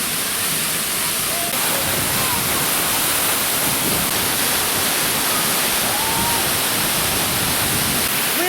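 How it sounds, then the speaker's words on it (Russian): Mustis waterfall in a damp, cold gorge in Abkhazia roars as a steady, dense wash of falling water, loud and continuous throughout with no break. "Находимся возле водопада Мустис."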